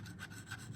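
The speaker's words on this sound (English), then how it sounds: "just scrape it with your Take-A-Pick tool" A Take-A-Pick tool scraping ink off an ink pad, giving short, quiet, repeated raspy strokes that come close together.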